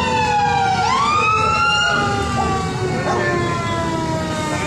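A fire truck siren wails through rising and falling sweeps at a building fire in a city neighborhood, loud and fairly near over steady crowd and street noise.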